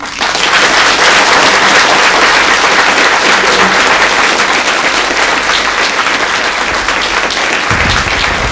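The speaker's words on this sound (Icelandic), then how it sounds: "og eigum ekki að gefa hann gott klapp" A television studio audience gives loud, continuous applause, thick rapid clapping holding steady for several seconds before cutting off abruptly near the end.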